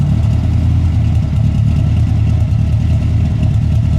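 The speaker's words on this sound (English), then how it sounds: "Still idling better than the other one." A Honda car engine idles loudly and steadily up close, a continuous low rumble with no one speaking.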